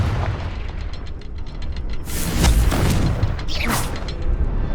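A Confringo blasting spell going off in Hogwarts Legacy during a keeper trial, ambient game rumble followed by a loud bursting explosion and a second sharp crackling blast shortly after, close and forceful.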